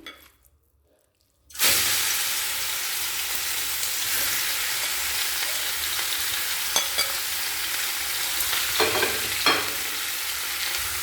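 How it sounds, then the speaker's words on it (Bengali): Marinated chicken mince hits hot mustard oil with a sudden loud sizzle after a brief quiet moment, then fries steadily with a bright crackling hiss and a few sharper spatters. "ম্যারিনেট করা চিকেন কিমা তেলের মধ্যে দিয়ে দেব"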